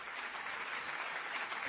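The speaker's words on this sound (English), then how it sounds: "We're clapping for you." Several people clap together in a faint, continuous patter of hands that holds steady for a couple of seconds.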